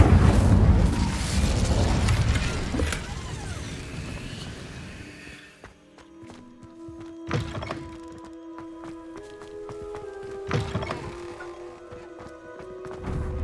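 An Incendio fire spell cast in Hogwarts Legacy bursts with a loud whooshing, booming roar that fades over several seconds, followed by sparse thuds and ringing magical tones in the quieter game ambience.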